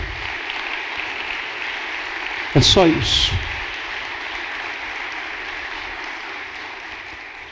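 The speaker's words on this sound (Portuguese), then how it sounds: "Pode aplaudir." A church congregation claps in a steady, even wash of applause that fills the whole stretch, with a brief spoken remark breaking in near the middle.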